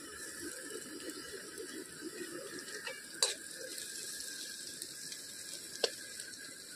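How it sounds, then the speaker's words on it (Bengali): Onions fry in a pan at an outdoor picnic cook-up with a soft, steady sizzle, with faint clicks and a couple of sharp taps from utensils against the pan. "তবে কি পেঁয়াজ ভাজা চলছে, তাই তো?"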